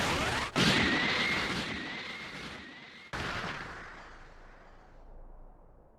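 The Special Beam Cannon attack in Dragon Ball Sparking! Zero strikes as two sharp, loud energy impacts about three seconds apart, each followed by a long, fading roar and whine.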